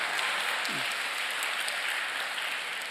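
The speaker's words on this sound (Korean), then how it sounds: "박수는 고마운데 맞춰야 돼요" A large church conference audience breaks into dense, sustained applause, a loud even wash of many clapping hands that holds steady throughout, with no clear speech over it.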